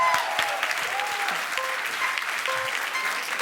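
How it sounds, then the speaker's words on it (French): Audience applause at a musical bingo show, a steady dense clapping from a crowd that fills the whole moment evenly, with faint tonal music lines running underneath. "On l'applaudit bien fort, mesdames et messieurs."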